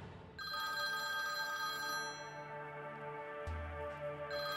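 An old-style telephone bell rings continuously and loudly, a sustained metallic trill that holds steady for several seconds with a brief break near the end.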